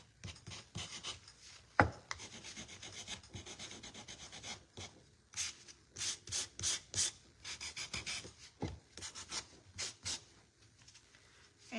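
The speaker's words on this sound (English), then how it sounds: "I'm gonna sand the edges, because I like those edges, distressing edges" Wood edges are distressed by hand with coarse 80-grit sandpaper, giving close, scratchy rubbing strokes. The strokes come in uneven bursts, with a quick rhythmic run near the end.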